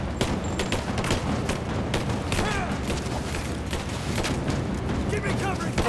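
Covering gunfire in a video game, a dense, continuous volley of cracking shots and booms, loud and busy throughout.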